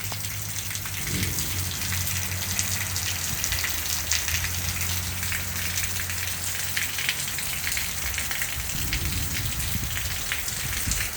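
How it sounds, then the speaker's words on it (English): Cold-front rain falls steadily and drips off a house roof, a constant close hiss of drops splashing on surfaces, with a low hum faintly underneath. "It's really a shame all the water gets wasted, like right there. Dripping off my roof."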